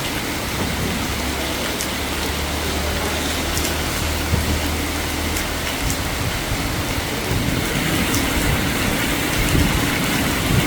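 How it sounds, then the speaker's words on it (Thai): Heavy rain pouring in Kanchanaburi, Thailand, with gusting wind, a dense continuous hiss of rain on surfaces and a low rumble through the first half, steady and enveloping with no talk. "ลมมันพัดด้วยครับ แล้วก็ ละอองฝนมันทำให้เรารู้สึกว่าเย็นเย็นแบบเยือกเลยนะครับ"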